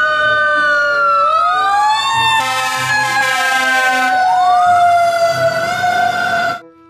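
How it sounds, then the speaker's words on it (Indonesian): Loud electronic siren from a toy fire truck wailing up and down in sweeping tones, close and continuous, with a brief honking burst in the middle, then cutting off abruptly. "Lihat, ada pemadam kebakaran."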